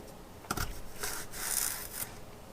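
A knife slices celery lengthwise and then into smaller strips for Thanksgiving dressing: a few close, dry rasping cuts with short scraping strokes and brief pauses between them, no voices.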